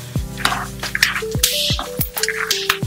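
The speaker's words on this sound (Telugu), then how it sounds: "చూసారుగా ఇలా చిట్పట్లాడుతూ వేగుతాయి." Puffed rice frying in oil for a spicy Indian murmura mixture gives off quick, irregular pops and crackles, close and fairly loud, with no voices heard.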